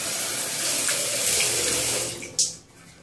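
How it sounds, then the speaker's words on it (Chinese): Running tap water rinses a Pobling facial cleansing brush head, a steady close rushing splash that ends in a brief louder splatter, with no talk. "它这个 brush 头呢，你只需要冲水把它洗干净就可以了的"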